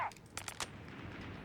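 Gunfire raking pioneers in a Company of Heroes 3 match, heard as a short rattling burst of several quick shots followed by lingering noisy battlefield ambience.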